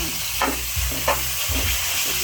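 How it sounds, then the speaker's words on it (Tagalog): Meat sizzles in a hot pan with a constant hiss, while a spatula stirs in repeated scraping strokes, close and fairly loud. "Gisa-gisa lang. Halo-haloin."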